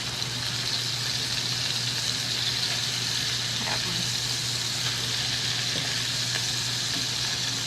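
Hamburger patties fry in a cast iron skillet with a constant close sizzle and crackle, even and unbroken, a faint low hum beneath and no voices.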